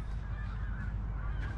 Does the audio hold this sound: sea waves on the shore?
no